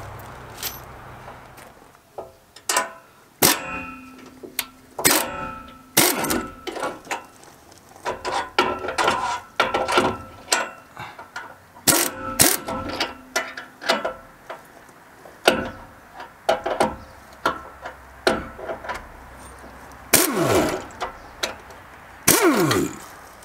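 Nuts and lock washers being fitted onto trailer U-bolts, heard as scattered sharp metallic clicks and clinks in irregular bursts with short quiet gaps between them.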